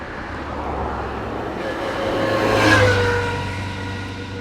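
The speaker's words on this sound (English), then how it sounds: "But like all the cars, they go so fast here." A car speeding past on a rural road, its engine noise building from a distance to a close peak and then fading away, with no talk.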